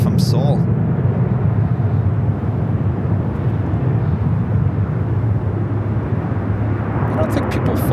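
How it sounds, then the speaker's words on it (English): An Asiana Airlines Airbus A380 arriving at LAX from Seoul makes a loud, continuous low engine rumble that stays steady throughout, with faint brief higher noises at the start and end. "up next, Asiana Flight 204, the A380 Super coming in from Seoul"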